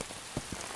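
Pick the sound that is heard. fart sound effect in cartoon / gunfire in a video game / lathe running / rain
rain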